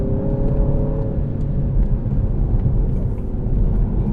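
Steady, loud low engine rumble and drone from a 2017 Mini Cooper S four-door with a JCW tune while driving, a constant whirring hum under road noise with no talking.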